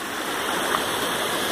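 Waterfall with churning white water in a wooded glen at Summerhill Glen, Douglas, Isle of Man, a steady loud rushing hiss without pauses or voices.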